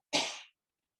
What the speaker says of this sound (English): and then force a few coughs.